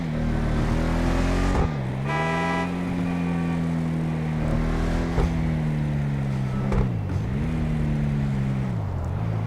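Benny's custom car in the video game GTA Online, its engine droning steadily and loudly, with brief dips in pitch at gear shifts before it climbs again; no one speaks.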